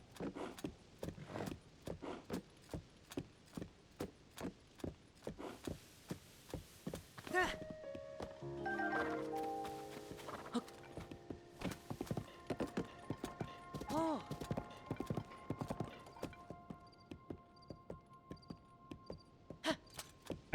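Horse hooves clip-clop steadily while riding in Zelda: Tears of the Kingdom, a brisk even rhythm of sharp hoof strikes that runs throughout, with chiming game effects and tones layered in partway through.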